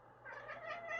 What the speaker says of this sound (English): Does anybody else have a cat that when it sees the birds, it starts clattering?